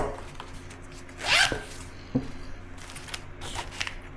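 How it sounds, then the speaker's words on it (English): A zipper on the pouch of a modular motorcycle tool kit is pulled in one quick, close rasping stroke, followed by a few light handling clicks and rustles. "The other side, it just looks like a open zipper pouch"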